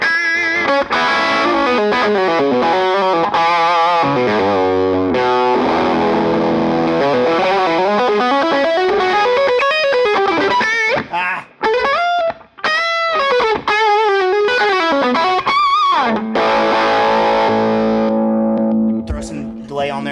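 Overdriven electric guitar through a King of Tone pedal with a tilt boost, playing bending lead lines and sustained notes, gritty and loud with a touch of chorus-like shimmer.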